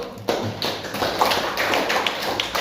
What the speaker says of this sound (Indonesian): Oke, kita kasih aplaus dulu.